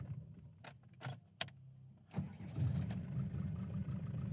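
A worn Renault 19 with over 400,000 miles cranks on a new starter motor. A few sharp clicks and a key rattle come first, then the engine catches and settles into a steady, close, loud idle, with no voices.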